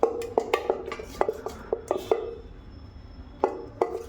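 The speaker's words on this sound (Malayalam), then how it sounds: "അതിനുശേഷം നന്നായിട്ട് ഇളക്കി കൊടുക്കുക." Spoon stirring appam batter in a vessel to break up lumps, with a run of sharp, close clinks and knocks against the side, a short pause, then a few more taps, and no talk.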